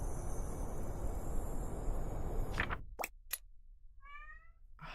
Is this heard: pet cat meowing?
yes